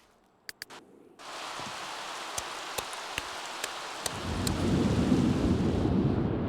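A Sims 3 thunderstorm brings steady rain hiss broken by several sharp crackles, then a deep thunder rumble swells and holds near and loud toward the end.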